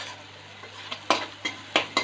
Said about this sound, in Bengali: এবার এগুলোকে একটু ভাজা ভাজা করব। এবার একে একটু ভালো করে নেড়ে চেড়ে